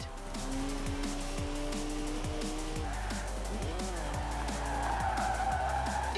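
A rear-wheel-drive BMW drifts in Forza Horizon 4, its tyres squealing and skidding over a steady engine drone, with repeated gear-shift sweeps and a rising screech toward the end.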